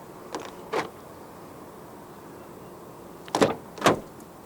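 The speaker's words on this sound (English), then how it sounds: "And to unlock the car, just press any of the black buttons again." Two pairs of brief mechanical clunks from a 2024 Hyundai Tucson 1.6T unlocking via keyless entry door-handle button, one pair early and another a few seconds later, close by with quiet pauses between.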